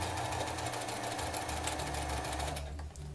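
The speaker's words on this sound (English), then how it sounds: "I am going to sew this using this edge of the foot as a guide to guide this edge of the fabric through" A sewing machine runs steadily, stitching a fabric seam with a continuous, fast mechanical whir. It is close and fairly quiet, slowing slightly at the end, with no talking.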